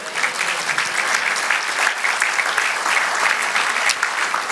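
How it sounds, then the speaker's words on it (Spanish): A church congregation breaks into steady, loud applause, a dense, sustained wash of clapping from many hands filling the room without pause. "Dale aplauso,"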